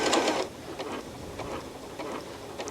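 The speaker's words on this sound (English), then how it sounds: "So then I'm going to slow that way down and start the machine." A Janome Horizon 9400/9450 sewing machine stitches a quarter-inch seam at slow speed, giving a soft, steady mechanical whir with a faint repetitive ticking throughout, quiet and close.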